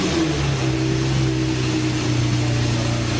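A Lamborghini engine revs as a sound effect, a loud, continuous mid-pitched roar with steady droning tones and no talking.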